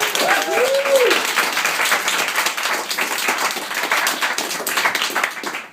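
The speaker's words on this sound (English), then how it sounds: "Maybe we do a round of applause for everybody this semester." Applause from an audience at a spoken-word evening, a dense crowd clapping steadily for several seconds with a brief vocal whoop near the start, then tapering toward the end.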